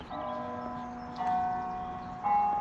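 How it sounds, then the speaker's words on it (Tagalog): A church bell at Martyrs' Shrine rings out, heard from the parking lot around ten o'clock, three resonant strikes about a second apart, each leaving a long humming decay, heard from some distance. "naririnig nyo naman yung bell ng church."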